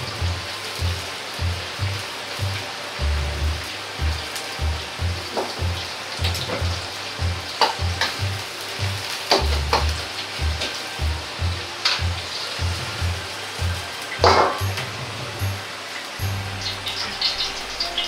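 Pork sizzles and crackles in hot oil in a frying pan as it is oil-blanched and stir-fried, a steady close hiss with rhythmic low thumps of the pan being tossed or stirred.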